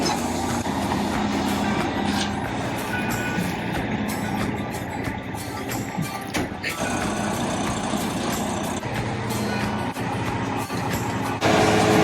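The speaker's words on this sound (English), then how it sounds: "concrete truck is here" A concrete delivery truck's diesel engine runs steadily and loudly, idling close by at a porch-pour site for a log cabin, a continuous broadband rumble with a slight rise near the end.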